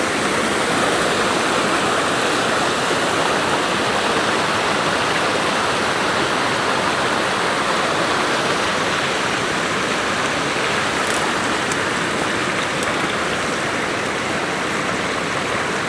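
Constant rushing water flows without pause, a dense, even splashing roar that stays loud and steady throughout.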